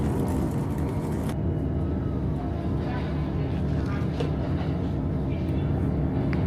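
Steady rumble and rolling hum inside a JR Chuo Line Ome Special Rapid train in a green car, with a constant low roar and faint rattles throughout.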